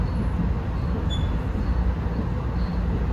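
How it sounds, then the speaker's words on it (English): A westbound Norfolk Southern double-stack freight train rolls along the Lehigh line, a steady, dense low rumble and rail noise that holds throughout without a break, with no voices. "there's a double stack going west on the Lehigh line."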